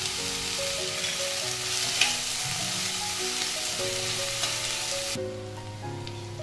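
Ginger garlic paste sizzling steadily in hot oil as it fries for pav bhaji, a continuous bright crackle with faint stirring scrapes and a small clink, no talking.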